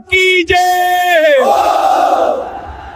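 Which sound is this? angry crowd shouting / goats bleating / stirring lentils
angry crowd shouting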